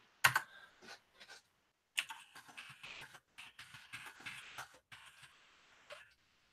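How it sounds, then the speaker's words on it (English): Someone types on a tactile mechanical keyboard in a quiet room, with fast, irregular bursts of crisp, clacky keystrokes separated by short pauses. "It always sounds like you're hacking into a mainframe with that keyboard, Sparky."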